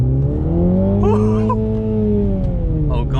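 A 2021 Mini Cooper JCW GP3 engine drones loud and close as it pulls under acceleration, with a steady rising tone and someone speaking briefly over it.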